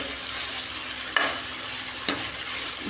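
Onions frying in a pan give a steady, close sizzle throughout, with two brief stirring clatters breaking through; nobody speaks.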